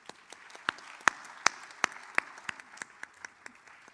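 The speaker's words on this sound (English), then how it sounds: "expressing our gratitude to the board members with a round of applause" Scattered hand claps from a small audience at a school electors' meeting, a dozen or so distinct claps over a quiet room rather than a full ovation, moderately distant and fairly light.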